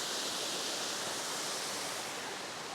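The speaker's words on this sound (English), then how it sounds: "Okay, there it is, the beautiful Richey Ridge Falls that Heather and I photographed before" Richey Ridge Falls on the Cumberland Trail pours in a dense, unbroken rush of falling water, close and steady with no voices over it.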